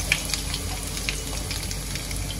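Cumin and coarsely crushed garlic fry in a pan, giving a steady soft sizzling hiss with faint crackles throughout, fairly quiet and even.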